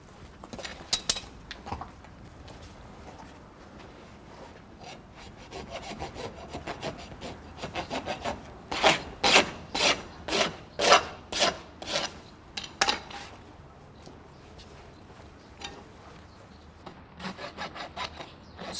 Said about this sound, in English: rasping the heads off the clenches so that the shoe can be pulled off without tearing the foot